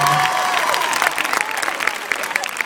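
An audience applauds a girl, many hands clapping in a steady wash under voices and crowd chatter, with a few shouts near the start and individual claps standing out now and then.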